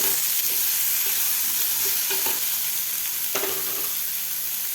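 Pumpkin sautéed in spice masala gives a steady, close frying hiss with a few soft scrapes of stirring, even and moderately loud with no talking.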